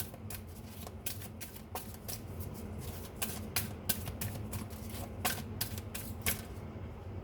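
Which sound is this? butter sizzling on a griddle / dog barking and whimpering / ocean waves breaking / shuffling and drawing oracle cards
shuffling and drawing oracle cards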